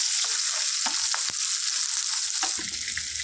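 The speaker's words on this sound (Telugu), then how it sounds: "ఈ విధంగా ఫ్రై చేసుకోవాలి" Chopped green chillies fry in a pan with a steady, close sizzle and crackle, broken by a few light spoon scrapes and stirs; no one speaks.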